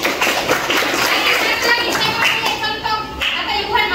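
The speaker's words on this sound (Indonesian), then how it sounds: "Bagus sekali. Tepuk tangan" Classroom clapping during a Bugis-language lesson, a loud, dense burst of many hands clapping together with children's voices mixed in, close and continuous throughout.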